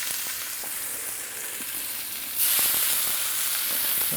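Bison New York strip steaks sizzle in a cast iron skillet, a steady close frying hiss that suddenly jumps louder and brighter partway through, with no talk.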